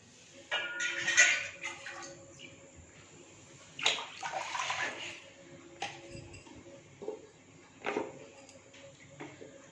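Water splashes into a metal pot in a few short pours while making rasam, separated by quieter pauses with faint clinks of utensils.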